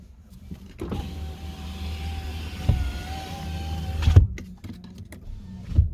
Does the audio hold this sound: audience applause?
no